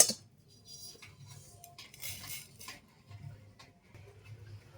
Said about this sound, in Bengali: এবার আমি এটা একটা প্লেটে ঢেলে নেব